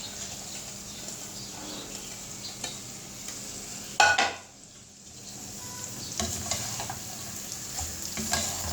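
Finely chopped cabbage hits a hot pan with a sharp sizzle, then is stirred, scraping and crackling steadily at close range with a few louder clatters of the spoon.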